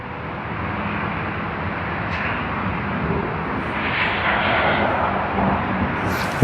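Dash 8 turboprop airliner taking off at Sydney Airport, a broad steady engine roar that swells gradually from a distance and holds loud, with no talking.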